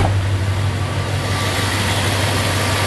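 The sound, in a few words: V8 engine idling after an oil change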